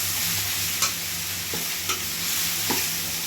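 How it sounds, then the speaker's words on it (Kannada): Coriander leaves and grated coconut sizzle and fry in a pan, a steady hiss broken by three or four sharp scrapes of a spoon stirring, close and fairly loud with no talking. "ಕೊತ್ತಂಬರಿ ಸೊಪ್ಪು, ಸ್ವಲ್ಪ ಫ್ರೈ ಮಾಡ್ಕೊಳ್ಳೋಣ."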